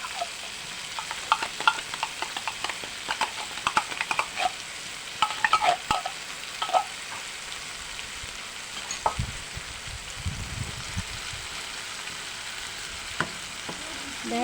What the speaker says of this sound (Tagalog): Lagay na po natin ang corned beef.